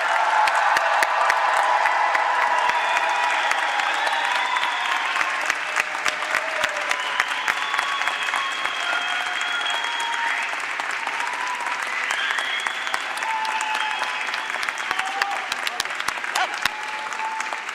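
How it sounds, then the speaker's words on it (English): Sustained applause from a large crowd at a university graduation ceremony, dense steady clapping lasting throughout, with a few faint voices and cheers mixed in. "please join me in applauding the June 2026 Beedie graduates"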